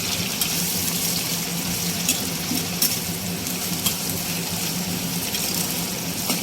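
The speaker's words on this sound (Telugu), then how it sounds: "ఉల్లిగడ్డలు మంచిగా ఎగుతాయి. కలుపుకోవాలి మంచిగా." Sliced onions frying in a hot pan for a Boda Kakarakaya curry, a steady close sizzle with scraping stir strokes and occasional clinks, no voices.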